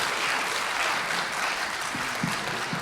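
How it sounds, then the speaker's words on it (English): Convention audience applauding at a game show actor panel, a steady dense wash of clapping throughout with a few faint voices beneath. "On peut l'applaudir."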